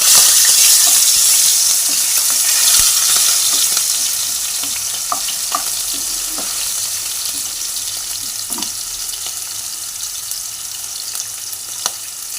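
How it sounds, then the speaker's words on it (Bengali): Shrimp fry lightly in a little oil in a wok, a close, steady sizzle with scattered crackles and occasional stirring scrapes, growing slightly quieter over time. "এবার চিংড়ি মাছগুলোকে হালকা ভেজে তুলে নেব।"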